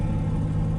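An Oldsmobile Cutlass engine gives a steady, deep, loud rumble while driving, with a constant low drone that stays the same through the brief moment.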